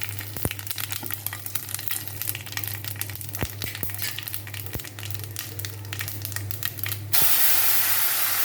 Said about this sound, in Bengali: জিরে আর তেজপাতা দেব।